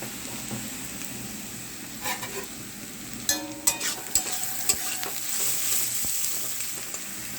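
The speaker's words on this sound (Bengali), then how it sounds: "পেঁয়াজটা লাল লাল হয়ে আসছে ভাজা।" Onions sizzle and fry in a pan for mutton curry, a steady crackle with a few sharp scrapes and taps of a spatula stirring, close and alone without speech.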